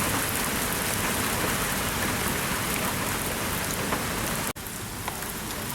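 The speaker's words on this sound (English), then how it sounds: "So right now it's just rain." Steady rain pours down during a severe thunderstorm in Lincoln, Nebraska, a dense, even hiss of drops on surfaces that continues unbroken apart from one brief dropout near the end.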